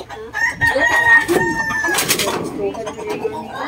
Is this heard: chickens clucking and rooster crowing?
yes